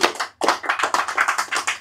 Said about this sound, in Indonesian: Tepuk tangan untuk next.